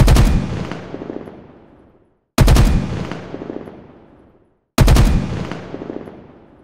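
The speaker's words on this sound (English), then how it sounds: "here's another audio sound, but this time it's the battle rifle" Battle rifle firing in the video game Halo Infinite, three separate loud burst shots, each a sharp crack trailing into a long decaying echo before a brief silence.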